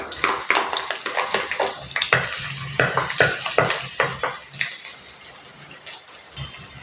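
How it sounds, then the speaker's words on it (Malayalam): Thinly sliced garlic cloves dropped into hot coconut oil for a Malabar fish curry, giving a close, steady crackling sizzle with scattered clinks and scrapes of a utensil in the pan. "നമുക്കതിലേക്ക് ഒരു 4 മുതൽ 5 വരെ വെളുത്തുള്ളി ഇങ്ങനെ നീളത്തിലരിഞ്ഞത് ചേർത്ത് കൊടുക്കാം"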